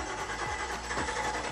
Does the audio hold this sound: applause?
no